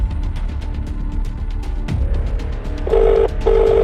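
Phone dialing with a short series of electronic keypad tones, followed by two steady ring-back beeps near the end, heard over faint background noise.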